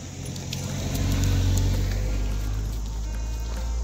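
A motor vehicle rolls up along a road on a morning dog walk with Labradors, its engine and tyre noise swelling as it nears and holding as a steady nearby rumble, with no voices.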